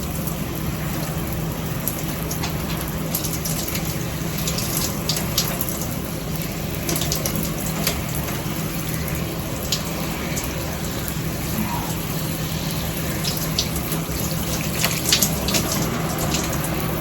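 Shower water runs steadily for a long stretch while hair is wetted, a dense even hiss with small splashes and splatters breaking through, no talking.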